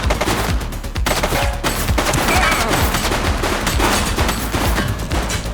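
Dense, loud automatic gunfire in The Precinct video game, rapid continuous bursts with a brief pause near the start, close and unbroken, no talk.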